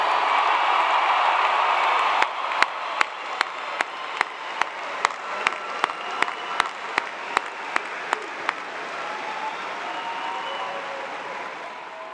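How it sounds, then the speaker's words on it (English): A large crowd applauds new graduates at a Clemson University fall graduation ceremony, a steady wash of clapping with a run of sharp regular beats standing out in the middle, then easing off. "How about another really loud round of applause for our newest graduates?"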